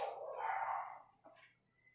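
A small pet dog gives a short bark or yip indoors during a maths lesson, one loud burst at the start followed by a fainter second sound, with no talking over it.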